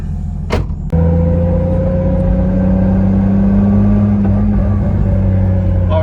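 A single-turbo 1JZ-swapped Lexus IS300 drift car drives along, the engine droning loud and close with a steady low rumble and a rising whine as it pulls, after a brief sharp clatter at the start.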